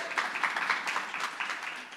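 Audience applause at a political talk event, a dense continuous wash of clapping from a crowd, steady and moderately loud throughout.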